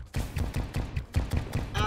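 Rapid explosions from the video game Terraria, a fast run of punchy thumping blasts about every tenth of a second, loud and dense, with a brief ringing tone at the end.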